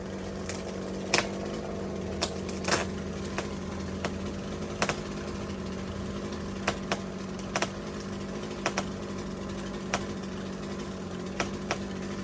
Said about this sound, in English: So we're just trimming this tree.